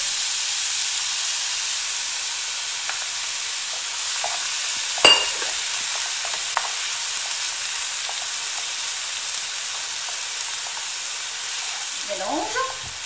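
A spiced kefta mixture with pepper, salt and garlic powder fries in a pan after liquid cream is added, giving a continuous hiss and sizzle. A single clink stands out, and faint utensil scrapes come near the end.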